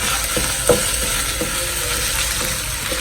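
Chili-ginger curry paste sizzles steadily in a hot pan while being stir-fried, with a constant frying hiss and several soft scraping stirs, close and fairly loud, with no talking.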